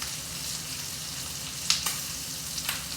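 Strip steaks sear and sizzle in a pan while melting, frothing butter is basted over them, giving a steady close frying hiss with a few sharp spatters and pops.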